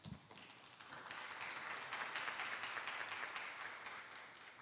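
An audience at a climate and health symposium claps to welcome a speaker. The clapping starts softly, swells into a steady, faint wash of applause and holds to the end with no talk.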